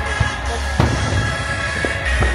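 Fireworks exploding during a large nighttime beach party in Pattaya, heard as scattered dull booms and crackles under a steady loud crowd roar and hum, with several distinct bursts spread over a couple of seconds.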